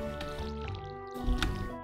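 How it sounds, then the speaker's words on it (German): Stardew Valley crop watering comes through as brief wet splashes and drips from a watering can, heard over the game's continuous background music. "Oder ich reg mich während dem Gießen über YouTube auf."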